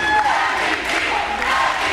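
A large crowd at a high school basketball final, a CIF Division V SoCal game between Rolling Hills Prep and Notre Dame, roaring and chanting in a loud continuous wash of voices that fills the gym.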